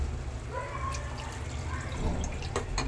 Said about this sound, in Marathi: आपण ह्याच्यात पाणी ॲड करून घेणार आहोत